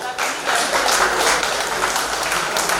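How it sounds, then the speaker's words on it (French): Broad, steady applause fills a Black & White soirée gala hall in honor of the Cameroonian ambassador's representative, a dense wash of many hands clapping at once, loud and sustained with no pauses. "Est-ce qu'on peut applaudir?"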